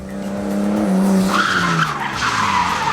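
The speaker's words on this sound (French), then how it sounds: "la voiture part en travers, contre-braquage évidemment" Car sliding sideways with countersteering during a driving-course skid exercise, tires squealing loudly over a revving engine, the screech rising and shifting pitch for about three seconds, close by, no talking.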